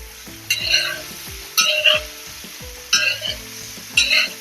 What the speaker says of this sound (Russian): Картошку желательно сразу перемешать, чтобы она вся промасливалась